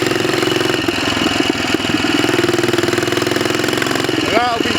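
A Royal Enfield 500 Bullet Trials motorcycle engine runs with a steady, rapid thumping pulse and some vibration, close and loud, ending with a brief rising tone.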